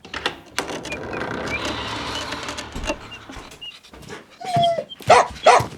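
Dog barks and whimpers in a few scattered bursts, fairly close, with rustling and shuffling between them and a couple of sharp louder yelps near the end.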